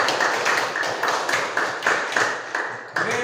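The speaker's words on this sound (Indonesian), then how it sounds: "kita tepuk tangan untuk kita semua" A group of people at a school session clapping their hands together in a patterned rhythm, the close, sharp claps arriving in regular bursts with brief pauses between them.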